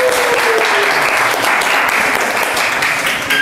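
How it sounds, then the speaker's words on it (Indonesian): Steady classroom applause from a group of students, continuous and fairly loud for a few seconds with a brief voice rising over it. "Berikan tepuk tangan."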